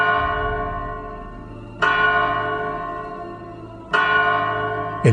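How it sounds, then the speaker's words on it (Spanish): Church bells ring the third call to mass with three loud, resonant strikes spaced about two seconds apart, each one's rich overtones hanging and slowly decaying into the next. "las campanas tocaron la tercera llamada."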